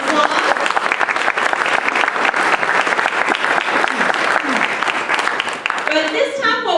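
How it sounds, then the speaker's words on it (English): An audience at a school district community session applauds, a dense, sustained clapping from many hands that fades near the end as a voice starts to speak. "Let's give them one more round of applause"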